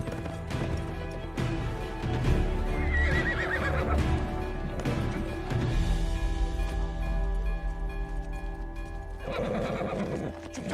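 A horse neighs loudly in a Bollywood action drama scene, its whinny rising over the clatter of hooves, with more neighing and clip-clopping continuing around it over roughly ten seconds.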